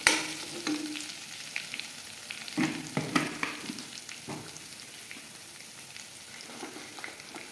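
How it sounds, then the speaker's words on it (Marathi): Garlic, mustard seeds and curry leaves hiss and crackle in hot oil as the tempering for a tomato saar or sambar cooks, with a sharp burst of sizzling at the start, scattered pops and spatters, then a quieter steady fry. "लसूण चांगले लाल भाजून घ्यायचे. थोडीशी मोहरी टाकायचं. थोडेसे कढीपत्ता टाकायचे."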